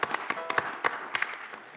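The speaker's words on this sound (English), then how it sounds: "that applause is gratitude" Scattered, sparse clapping from a church congregation at a Unity gathering, a handful of distinct claps spread over a couple of seconds, fairly quiet and thin, as if fading out or just a few people joining in.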